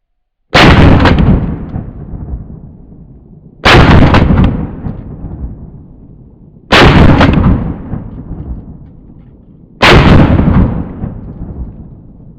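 A TriStar Viper Max gas-operated semi-auto shotgun fires 3.5-inch magnum loads: four loud, sharp blasts about three seconds apart, each followed by a long, fading rumble, with no talking.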